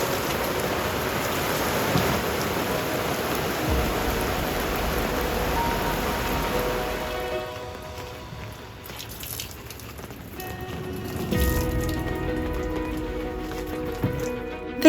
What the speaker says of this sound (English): It's the first downpour that we've seen in a very,